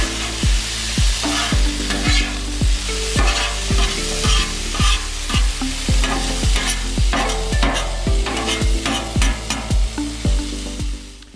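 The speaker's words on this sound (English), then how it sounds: "You're going to toss it for about 30 seconds." Beef and broccoli with sauce tossed in a stir fry on a Blackstone flat-top griddle, a loud sizzle cut by regular rhythmic scraping and clanking spatula strokes, close up and steady with no talk.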